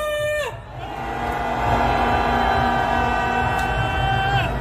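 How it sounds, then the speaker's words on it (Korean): A large crowd at a Korean candlelight rally calling for the impeachment of Yoon Suk-yeol lets out a sustained roar of shouting that swells after a brief amplified tone and holds loud until the end. "다시 한번 질러보겠습니다. 함성 발사!"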